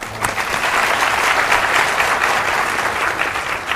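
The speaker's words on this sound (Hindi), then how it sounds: "एक बार तालियां लगाते हैं।" Audience applause during a Ram Katha religious discourse: dense, steady clapping from a large crowd, sustained at an even level for the whole stretch with no talking over it.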